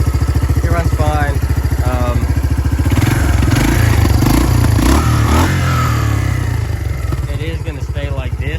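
The engine of a 1986 Kawasaki Bayou 300 ATV, fitted with a new carburetor and a long exhaust, runs close and loud with a steady throbbing idle and a brief rev in the middle, while a person talks over it.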